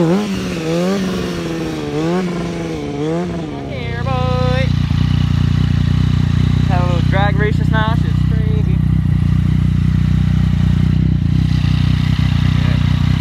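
A motorcycle engine runs steadily and loudly while being ridden, a constant throaty drone with a wavering pitch. Voices and some rising, sliding tones sound over it in the first seconds.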